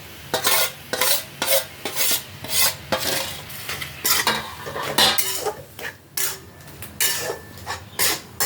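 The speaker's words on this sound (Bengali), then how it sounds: "সেই মাখা নারকেলটা এই কড়াইয়ের মধ্যে দিয়ে দিলাম দিয়ে এটা ভালো করে নাড়তে হবে" A spoon scrapes and stirs grated coconut repeatedly against a metal wok in a steady rhythm, close up, with a faint sizzle underneath.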